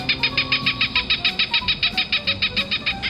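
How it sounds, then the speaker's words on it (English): Seagull calls at the ocean repeat in a steady rhythm of short, bright, high cries, about five per second, with a low rumble underneath. "Can't you hear and smell the seagulls?"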